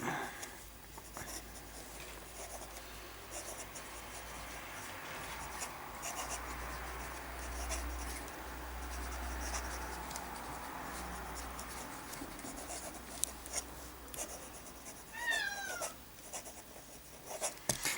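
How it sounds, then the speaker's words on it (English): A fountain pen with a medium nib writing on paper, a soft continuous scratchy rustle of strokes close up and quiet, with a few small taps and pauses near the end. "Writing is pleasant, smooth, good flow."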